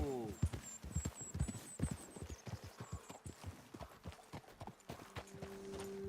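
Horse hooves clip-clop steadily on a path in the Red Dead Redemption 2 video game, with a bird chirping, a voice calling to the horse and faint ambient hum.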